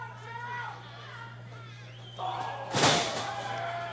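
A wrestler's clothesline strike in an OVW Thanksgiving Thunder match between Kal Herro and Star Rider lands as one sharp, loud slam near the end, amid crowd chatter and commentary.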